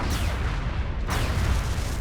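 Weapons fire at a UFO in XCOM, heard as a dense, rumbling barrage of booms with a sharp blast about a second in, loud and continuous.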